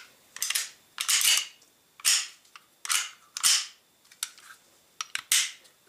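Baikal MP-654K air pistol from 1999, its mechanism worked in a series of about eight sharp metallic clacks and snaps at irregular intervals, close and fairly loud with quiet gaps between.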